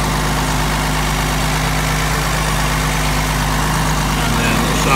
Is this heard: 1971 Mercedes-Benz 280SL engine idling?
yes